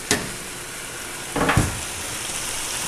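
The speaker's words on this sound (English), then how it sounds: "I'm going to add the garlic that I chopped up." Chopped garlic hits a hot pan and sizzles steadily, with two brief louder bursts of frying and stirring partway through, close and without any voices.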